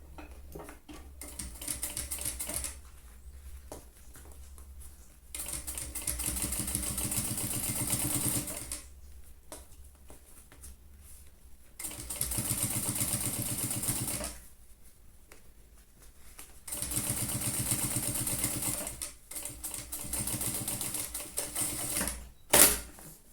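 A sewing machine topstitching a trapeze-shaped zipper pouch runs in loud bursts of rapid mechanical stitching, separated by short quiet pauses, heard up close with no talking.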